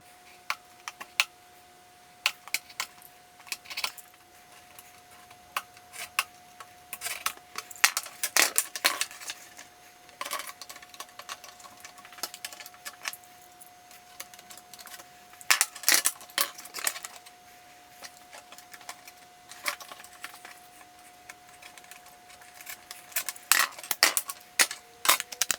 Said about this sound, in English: This ought to cut pretty easy with just a straight edge and a sharp knife. I'll just have to make multiple passes.